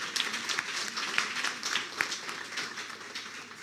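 An audience at a political party-joining event in Quresh Nagar ward gives sustained, dense applause with scattered sharp claps, steady throughout at moderate distance, with faint crowd murmur underneath.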